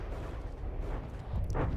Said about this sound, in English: I love how the Hesh explosions sort of pop all of the fallen blocks away, not the Hesh, the flak explosions